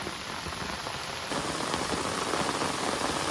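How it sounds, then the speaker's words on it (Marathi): Heavy monsoon rain falls by a flooding river, a continuous close hiss of drops on surfaces that swells a little louder after the first second and then holds steady, with no talking. "पावसाची जादू बघा"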